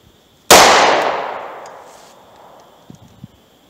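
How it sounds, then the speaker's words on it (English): A single loud .38 Special revolver shot firing a Speer Gold Dot 135 grain +P round outdoors, a sharp blast with a long decaying echo, followed by a couple of faint small knocks. "Now let's fire the 38 Special and then we'll peel that thing open."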